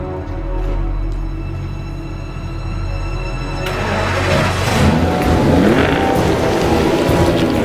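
A 2008 Aston Martin engine idles with a steady low drone, then swells into a louder, rougher rev with rising throttle partway through, close by and with no talking.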